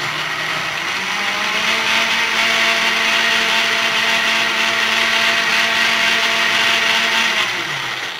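Mixer grinder blending mango milkshake with milk, a loud, steady high-pitched motor whir that runs nonstop for several seconds, close up and without voices.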